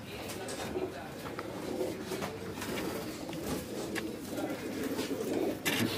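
Domestic pigeons coo steadily at close range, kept in a loft among many birds. Low throaty calls repeat throughout, mixed with general flock noise and rustling.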